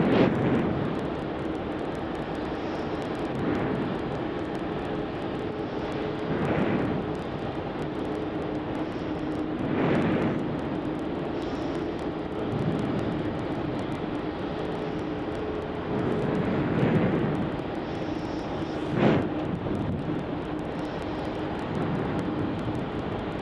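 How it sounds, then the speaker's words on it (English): Qantas Airbus A330-200 taxiing to runway 34 at Melbourne Airport, a steady, moderately loud jet engine drone with slow swells and a few clunks, heard from a distance without voices. "So this Qantas A330 on your screen here that's taxiing to runway 34 for its departure is QF406"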